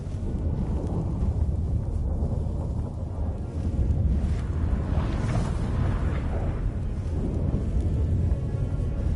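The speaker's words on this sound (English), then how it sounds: "That a storm?" A storm in The Witcher 3 roars with steady, heavy wind and deep rumbling thunder, loud and continuous with no voices.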